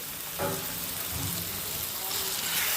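Prawns coated in mustard oil, salt and turmeric drop into frying masala, setting off a steady close sizzle with a brief louder burst as they land, then continuous crackling frying.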